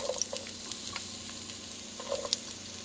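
Onion frying in cooking oil in a pan makes a steady, close sizzle with scattered small pops and crackles, heard on its own with no talking.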